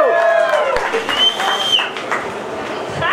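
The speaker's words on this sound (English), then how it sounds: "Last contestant, let's hear a good round of applause." A crowd applauds and cheers at a Comic Con cosplay parade, with steady clapping and some whoops. A voice speaks briefly over it.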